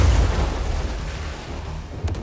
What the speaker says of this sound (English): Cliff operated the cannon and brought down both Sky Galleons in turn.